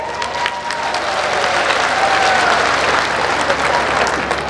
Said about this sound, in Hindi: अभी ताली बजाई है